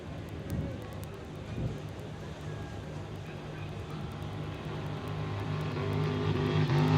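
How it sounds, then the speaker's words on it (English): A race boat's engine drones at a distance, with repeated sharp pops as it hits the rev limiter, climbing steadily louder. "They're on the rev limiters this time. You can hear it, that little pop, pop, pop, pop"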